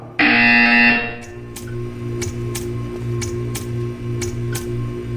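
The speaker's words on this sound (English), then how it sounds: "You will hear a buzzer. When you hear the buzzer, stare at the art." A loud, harsh electronic buzzer from the video game Portal 2 sounds once for about a second, then gives way to a humming test-chamber ambience with a series of sharp, regularly spaced ticks.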